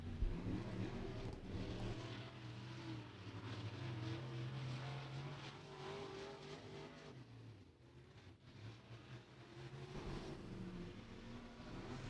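A race car on a qualifying lap at Beckley Motor Speedway, the 22C driven by Tate Hughes from Beaver, West Virginia, its engine revving and swelling as it passes, fading briefly then building again.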